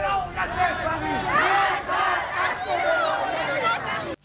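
A street crowd chants slogans together in loud rhythmic bursts, with voices rising and falling over one another in dense, continuous shouting throughout.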